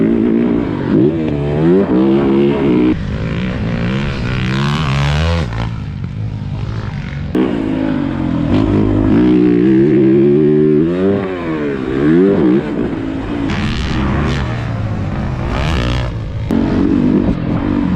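A 2023 Yamaha YZ450F dirt bike ridden around the Aztec track, its engine loud and close, revving up and down in rising and falling sweeps with gear changes throughout, no talking.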